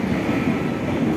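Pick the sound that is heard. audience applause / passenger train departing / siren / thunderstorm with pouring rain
passenger train departing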